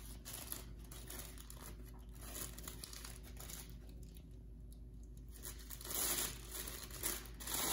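Tissue paper being gently pulled open to form a craft flower, producing a soft, continuous close crinkling and rustling that swells louder toward the end, with no voice over it.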